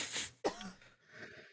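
A woman's throat clearing and a short cough come from a character in the Ace Attorney courtroom video game, two quick rough bursts close and fairly quiet, with no talk over them.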